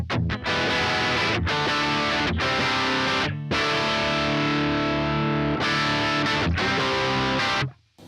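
A heavily distorted electric guitar through the distortion amp simulation of a Yamaha AG06 interface plays sustained chords, stopping briefly between phrases and then fading out at the end.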